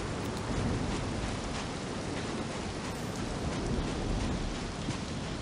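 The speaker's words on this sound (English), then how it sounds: "Horror staples of wind and rain." Steady downpour with a low thunder rumble in the horror video game Clive Barker's Undying, a constant hiss of rain on surfaces at an even level throughout, with no voices.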